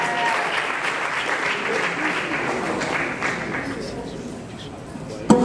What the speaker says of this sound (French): On applaudit pendant qu'ils avancent également.